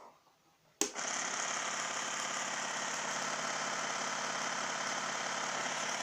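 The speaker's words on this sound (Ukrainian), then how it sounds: "Велосипед наш їде, колесо крутиться споживання є, але ж цим, в цей же час йде зарядка" A bicycle hub motor-generator wheel starts up abruptly out of near silence, then spins with a constant, even whirring drone that holds steady to the end.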